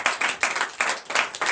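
Church congregation clapping in a steady rhythm during a Sunday worship service, loud bursts of hands striking together in a repeating beat, close and filling the room.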